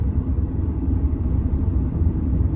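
A Trans Am with a cammed LS engine and new exhaust idles steadily with a deep, throaty exhaust rumble, close by and continuous, with no talking.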